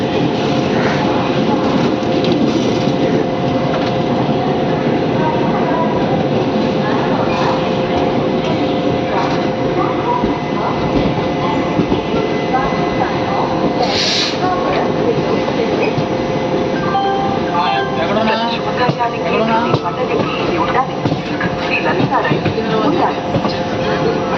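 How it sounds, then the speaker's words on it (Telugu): Palnadu SF Express train pulling out of Secunderabad station, a steady loud rumble of wheels and carriages with rhythmic clatter throughout, plus a brief higher squeal partway through. "సికింద్రాబాద్ నుంచి మన ట్రైన్ బయలుదేరిపోయింది"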